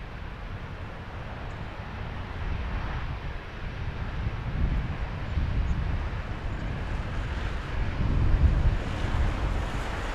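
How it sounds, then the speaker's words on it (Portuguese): Strong wind buffeting the microphone at Madeira airport, a continuous low roar that swells in gusts and stays steady throughout, with no voices. "penso que conseguem ouvir aí o vento"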